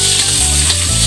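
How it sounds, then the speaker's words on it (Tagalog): Vegetables in hot oil give off a loud, continuous sizzle with no talking. "igigisa na natin"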